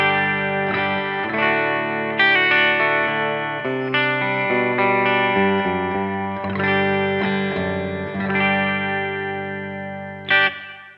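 Electric guitar played clean through a Blackstar Studio 10 6L6 amp, captured via a Two Notes Torpedo Captor X, ringing chords and single notes loud and close for about ten seconds with no talking.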